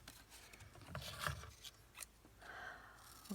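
Scissors snipping a paper tag, a few soft close cuts and scraping strokes, faint and quiet with no voices.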